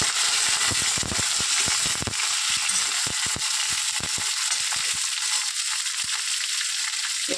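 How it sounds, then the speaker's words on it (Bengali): Bitter gourd frying in oil with dried red chillies and black cumin crackles loudly and steadily, with dense sharp pops and the scrape of stirring close up, and no voices. "এবার আমি উচ্ছেটা দিয়ে দিলাম, এটা একটু নাড়াচাড়া দিয়ে নিই।"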